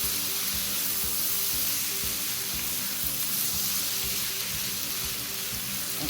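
Chicken and steak pieces seasoned with black pepper sizzle in a pan while being stirred, a constant close, even hiss with faint scraping, no talk.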